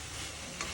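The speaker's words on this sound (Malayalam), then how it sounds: "അപ്പോൾ ഇങ്ങനെ ഞാൻ ചട്ടിപ്പത്തിരി ഉണ്ടാക്കാൻ വേണ്ടിയിട്ട് സവാളയൊക്കെ വാട്ടുവാണ് കേട്ടോ" Sliced onions softening in a pan at home for chattipathiri, an iftar dish, with a faint steady sizzle and a light stir near the end, low in level with no talking.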